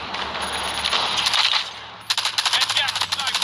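Gunfire in a Call of Duty tournament match: a dense stretch of shots, then crisp, evenly spaced automatic rounds rattling off close and loud toward the end.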